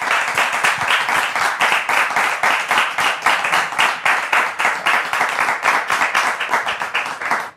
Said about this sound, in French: Je voudrais entendre les applaudissements du public encore plus forts.